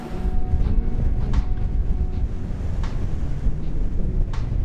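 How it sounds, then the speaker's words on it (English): Strong wind blowing outdoors beside a parked camper van, a steady dense low rumble of gusts buffeting the microphone throughout, with no voices. "So windy."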